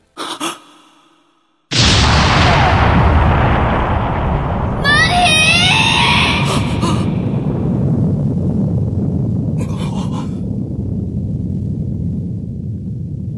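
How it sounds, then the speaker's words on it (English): A spaceship explodes in the Sonic X anime with a huge, sustained roaring blast after a brief vocal cry, the rumble rolling on for many seconds while sharp metallic effects and a shout cut through. "the explosion of Molly's ship and Rouge's shout of horror reverberating into your eardrums"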